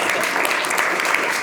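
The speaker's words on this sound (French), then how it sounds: "et on peut applaudir Thomas Séraphine qui est derrière nous." Steady, dense applause from a crowd, evenly sustained throughout with no pauses or voices standing out.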